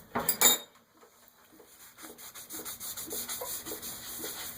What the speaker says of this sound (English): You can see razor blades work really good on porcelain.